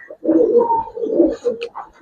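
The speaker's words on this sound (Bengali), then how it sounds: "একেবারে সম্পূর্ণ বিন্দুমণির কবুতর ভাই" A female Giribaz silver pigeon coos in soft, throaty, rolling phrases, close and fairly loud, repeating over a couple of seconds with brief pauses between calls.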